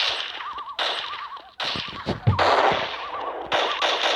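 Video game gunfire comes as a series of sharp rapid bursts, loud and close, separated by short gaps, with a wavering high synthetic tone running alongside and one heavier thump midway.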